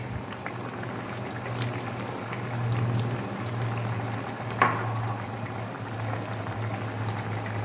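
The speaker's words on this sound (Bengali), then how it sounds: "আমার বেগুন আলু ফুটে গেছে বেগুনগুলো সব ফুটে গেছে দেখুন এবার আমি মাছগুলো দিয়ে দিচ্ছি" Rohu fish pieces go into a simmering eggplant and potato curry, a steady low bubbling boil with a brief sharp splash or clatter midway, close by and without speech.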